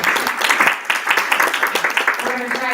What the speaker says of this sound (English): We can clap for them one more time.